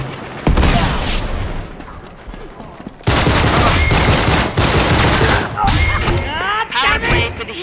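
Rapid bursts of gunfire in an Uncharted 3 multiplayer match, loud and close, dense volleys from about three seconds on after a lighter opening stretch, with a voice talking over the shooting.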